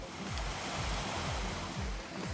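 Steady rushing water of a creek flowing beside a forest hiking trail on the Fall Creek loop near Felton, a continuous broadband wash close by with low thumps underneath and no talking.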